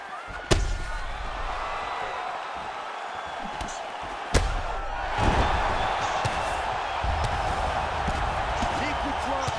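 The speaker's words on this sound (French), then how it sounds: "Les coups de poing encore et toujours. Une nouvelle série qui vient s'abattre sur son adversaire." Punches thud in EA Sports UFC 4 during a McGregor versus Nate Diaz bout, a few sharp hits standing out over a steady crowd roar while a commentator talks.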